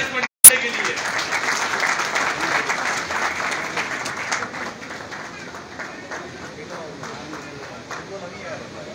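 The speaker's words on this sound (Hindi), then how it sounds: "तो भरपूर ताली इस बंदे के लिए" Crowd applause at a Karachi pigeon-racing prize distribution, steady clapping for a flyer filling the scene after a brief sharp knock at the start, with voices murmuring underneath and slowly tapering.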